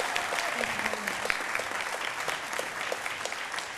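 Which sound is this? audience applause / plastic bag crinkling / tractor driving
audience applause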